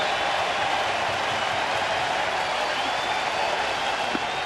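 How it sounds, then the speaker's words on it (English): A stadium baseball crowd on its feet during a Royals game roars and applauds in a steady, dense wash of distant cheering, with a commentator's voice faintly above it. "The crowd on their feet."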